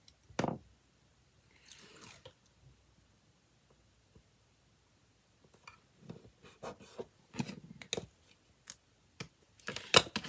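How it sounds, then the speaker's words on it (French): Scissors snip paper in short quiet clusters of cuts near the end, after a stretch of near silence with faint handling noises, close and soft. "Ciseaux."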